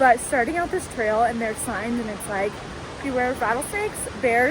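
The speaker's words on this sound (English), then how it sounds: "You might also be able to hear the rushing water behind me." A rushing stream runs beside a hiking trail, giving a steady broadband wash of water that stays under continuous close talking throughout.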